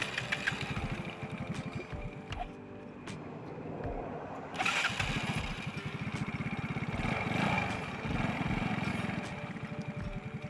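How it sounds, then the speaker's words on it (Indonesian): A scooter engine under roadside repair of its front pulley runs throughout, a steady, fairly close mechanical chug with a fast pulsing rhythm and no pauses. "Oke, kita nyalakan dulu engine-nya sebelum kita tutup."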